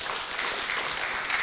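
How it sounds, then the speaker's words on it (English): Brief burst of applause from participants at an oceanography training session, a dense, even patter of many hands clapping at moderate volume. "Can we clap for them?"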